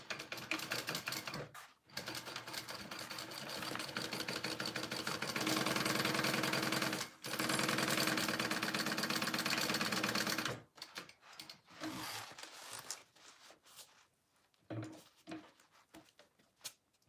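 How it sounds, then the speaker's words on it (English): A sewing machine runs a 3/8 inch seam on a fabric project, loud rapid mechanical stitching in long continuous bursts with brief pauses, then shorter stop-start runs of stitching near the end. "we're gonna sew that all together at a 3/8 inch seam allowance,"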